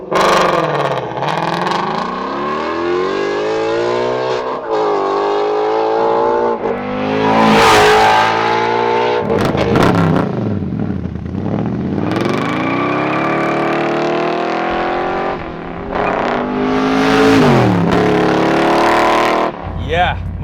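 A loud Ford Mustang Shelby GT350 sports car engine revs hard again and again, pitch sweeping up and down with roaring bursts, close by, with voices speaking briefly.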